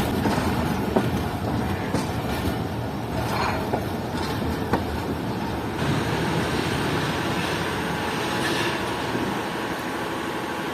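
A passenger train rolls into Sukkur railway station with a continuous heavy rumble and rhythmic clatter of wheels over rail joints, heard close from on board with occasional sharper knocks.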